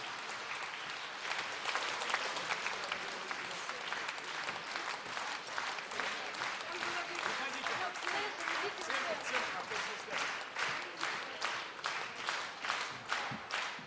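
An audience at a music festival award ceremony in Yaroslavl applauds a prize winner. Dense, steady clapping fills the hall for about fourteen seconds, with a voice faintly underneath.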